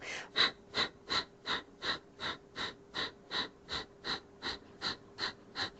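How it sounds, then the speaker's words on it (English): Rhythmic yoga breathing during a bridge exercise: about fifteen sharp, forceful breaths pulse evenly and close, each a short breathy burst with a quiet hum beneath. "let's start the breathing again"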